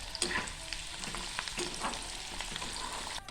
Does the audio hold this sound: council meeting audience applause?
no